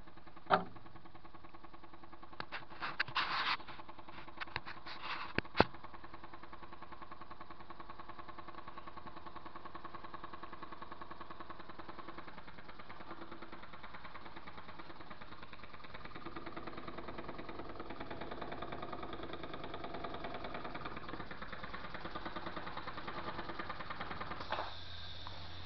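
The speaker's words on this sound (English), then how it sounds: "This engine's running on about 3 pounds of air pressure." A small shop-built steam engine running on low-pressure compressed air gives a steady, quiet mechanical chuffing hum, with a few sharp clicks and knocks early on, then runs evenly and alone for about twenty seconds.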